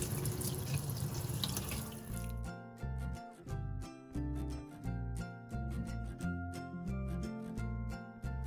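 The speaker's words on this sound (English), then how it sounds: "You'll want to wash your vegetables and then get ready to prep everything." Tap water runs into a sink as vegetables are washed for roasted vegetable tacos, a brief loud rushing splash that stops after a couple of seconds and gives way to rhythmic background music.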